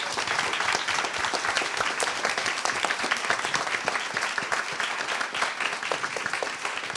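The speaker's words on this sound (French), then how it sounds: "On peut les applaudir" Continuous applause from an audience at a talk on sex education and pornography, an even wash of many hands clapping at close range, steady throughout with no talking.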